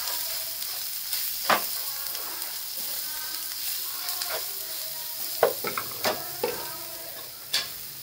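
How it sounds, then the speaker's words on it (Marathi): Green chillies, garlic and cumin sautéing in a pan for a Maharashtrian bottle gourd bharit, giving a soft, steady sizzle broken by a few sharp clicks and taps from stirring. "हिरवी मिरची, लसूण, जिरं हे टाकते. ते चांगलं परतून घेते."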